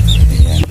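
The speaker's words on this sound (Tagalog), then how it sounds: "Yan, maraming manok dito." Chickens in a rural yard give a quick, loud, close cluck or two, a short throaty burst under a second long, ending abruptly.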